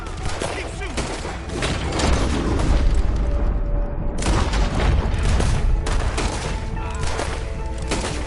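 Dense, loud gunfire and booming shots rattle almost nonstop through a Red Dead Redemption 2 shootout, with overlapping bursts, echoing reports and game sounds mixed under voices.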